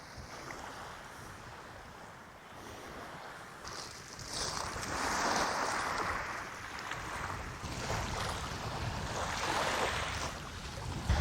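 Waves wash onto a littered beach in Kent in a steady, broad hiss that swells and recedes, with wind blowing across the recording and no voices.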